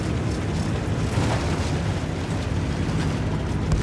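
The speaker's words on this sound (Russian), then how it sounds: "Артиллерия!" Artillery barrage in Battlefield 1, a dense continuous rumble of loud booming explosions and blasts filling the whole span with no clear gaps.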